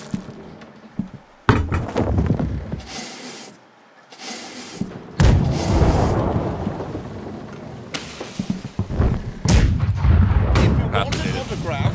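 Cannon fire in the pirate naval game Blackwake: heavy booming broadside shots with rumbling, thunder-like tails, several blasts spread across the clip, loud and close, with no talking.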